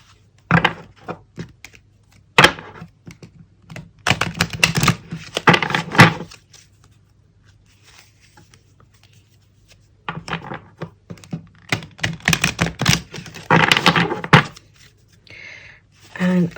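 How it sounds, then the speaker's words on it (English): A large Wild Woman Oracle card deck is riffle shuffled in two bursts of rapid fluttering clicks, close up, separated by quieter handling taps. "Let's try the shuffle, the riffle shuffle."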